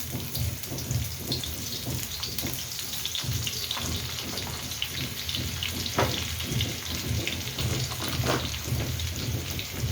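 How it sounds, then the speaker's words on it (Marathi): Chopped garlic sizzles in hot oil in a pan for a tempering, a dense, steady crackle and hiss with scattered pops, close and continuous and with no talking over it. "लसूण टाकायचं फोडणीला."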